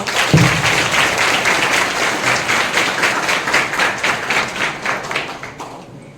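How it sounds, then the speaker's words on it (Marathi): A crowd at a competitive exam event claps loudly in a dense burst of applause that swells in rhythmic waves and then fades out near the end. "एकदा जोरदार टाळ्या वाजवा बरं"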